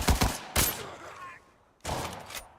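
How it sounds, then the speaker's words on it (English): Bursts of gunfire from gunfights in the video game Arena Breakout, three sharp rattling volleys separated by brief pauses, loud and close. "with about 3 different gunfights going on around him"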